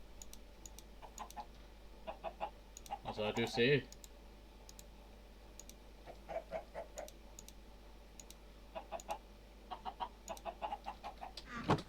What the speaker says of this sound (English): Our chickens are not going to recover from this in a long time now.